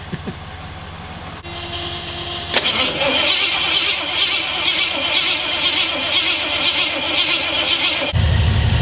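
Jeep rock crawler engine cranking over with a battery running low, then catching at once and settling into a loud, steady idle that runs for several seconds before cutting off abruptly.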